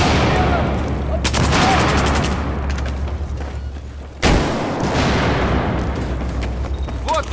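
Grenade blasts and gunfire in the shooter game Battlefield 4 crash loudly: dense rattling bursts of shots, a sharp booming explosion partway through, then continued heavy firing with a low rumbling bed beneath.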